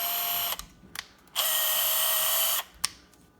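A Hilti cordless power tool on a nearly flat battery whirs in short bursts: a brief spin, a quick blip, then a longer run of about a second, and a final short pulse, loud and close.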